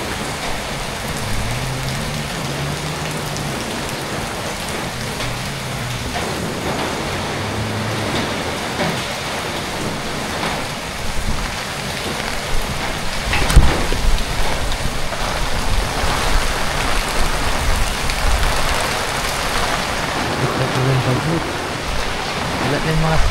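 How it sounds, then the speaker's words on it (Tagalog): Heavy rain pours during a typhoon, a dense, steady roar of downpour with gusting wind. A faint voice occasionally rises underneath. "Sobrang ulan."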